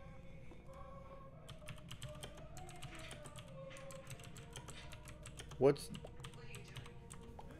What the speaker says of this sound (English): So just type pink.